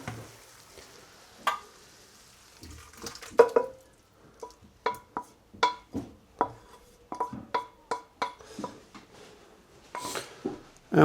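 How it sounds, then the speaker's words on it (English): Beef stew ingredients being moved into a slow cooker, a series of wet clinks, scrapes and soft knocks from a spoon against the pot, sparse at first then coming in a quicker irregular run. "So now we'll transfer everything to the slow cooker."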